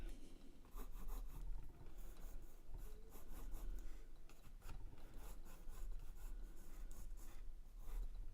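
A pencil sketches on paper for a portrait, with continuous close scratchy strokes rising and falling in short bursts and no talking.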